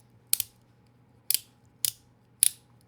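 An X-LOCK fidget slider by Lautie snaps four times, sharp close mechanical clicks with uneven gaps in a quiet room, each click a quick double snap.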